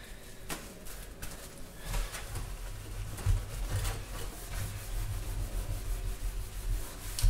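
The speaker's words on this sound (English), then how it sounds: "you just agitate it and rub it in" Scrubbing a stainless steel sink with Cif cleaner gives a continuous rough rubbing and scouring texture, close and moderately loud, with uneven strokes and no talk throughout.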